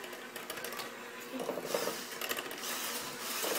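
An electric hand mixer whirring while cream puff filling is made, a fluttering mechanical buzz that rises and thickens midway, close and fairly quiet, with faint scraping in the bowl.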